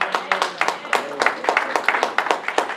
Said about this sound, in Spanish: el pueblo de Dios le da una ofrenda de aplausos